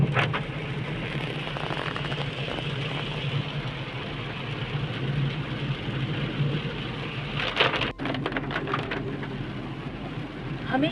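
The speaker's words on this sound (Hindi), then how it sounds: "अब हम बारिश का मज़ा लेते हुए घर जा रहे हैं" Rain hisses steadily around a car driving home, under a continuous low engine and road drone, with a brief knock partway through.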